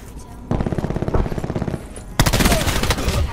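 Burst-fire gunfire in the video game Black Ops 4, loud and close, with rapid rhythmic volleys of shots in two sustained runs separated by a short pause.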